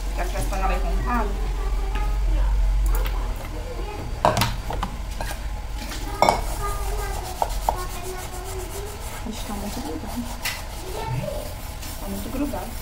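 A new scrubbing sponge rubs hard against a burnt cooking pan with stuck-on residue, producing repeated close scraping and rubbing strokes with occasional knocks, while someone talks over it.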